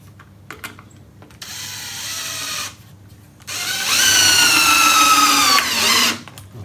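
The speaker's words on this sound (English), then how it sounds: "drop in another couple of screws" A power drill drives screws into a wooden spice rack shelf in two close bursts, a shorter whine followed by a longer, louder one that rises in pitch as the screw seats, with quiet pauses around them.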